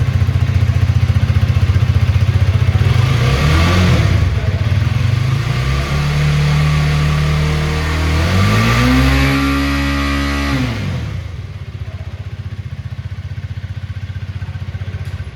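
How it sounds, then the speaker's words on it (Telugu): A Hero Karizma XMR 210, a 210 cc liquid-cooled single-cylinder four-stroke DOHC motorcycle, idles with a steady exhaust note, then revs up and down several times in rising and falling sweeps before settling back to a loud idle, close by and without talk. "ఇప్పుడు ఒకసారి దీని ఎగ్జాస్ట్ నోట్ అనండి గాయస్."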